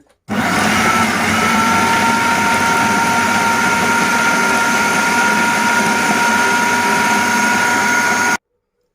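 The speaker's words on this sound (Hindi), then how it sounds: "अब इसको हम चॉप करना शुरू करेंगे।" An electric chopper whirs steadily, grinding a spiced chickpea falafel mixture for about eight seconds, a loud, even motor drone that starts and stops abruptly.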